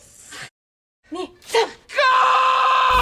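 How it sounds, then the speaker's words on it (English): A man screams in pain as hot wax is ripped off his chest in a film scene. Short strained cries come first, then a loud, sustained scream fills the rest of the clip. "when she rips it off, he screams in pain."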